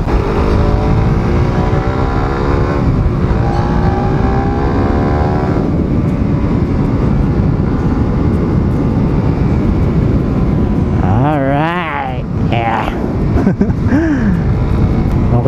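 A motorcycle on the road, its engine droning loud and steady under rushing wind, with pitch rising and falling as it revs while riding; a voice talks briefly over it.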